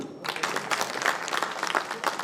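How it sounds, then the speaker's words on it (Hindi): A political party gathering in India erupts in loud, enthusiastic applause from the audience, a close, dense burst of clapping that starts abruptly and carries on steadily. "उनके लिए बहुत शानदार ताली"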